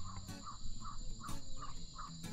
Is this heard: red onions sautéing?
no